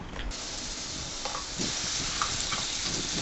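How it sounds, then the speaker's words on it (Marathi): Ground spice paste for dum aloo sizzling as it goes into hot oil with cumin and bay leaf, a steady broad frying hiss with stirring scrapes, close and fairly loud, with no talking. "ही वाटून घेतलेली पेस्ट आता या तेलामध्ये आपण घालूया."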